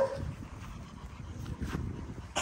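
Dogs on a once-a-day feeding schedule whimper softly while waiting for food, with faint whines and rustling close by and no talking.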